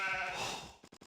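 Sheep bleating in the Age of Empires Dark Age: a loud blended burst of bleats fades, then three short, evenly spaced bleats follow close together, with no talk.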